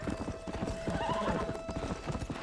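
Horse in the video game Red Dead Redemption gallops with rapid, rhythmic clip-clop hoofbeats, a whinny rising briefly in the middle, all fairly faint against a game soundscape.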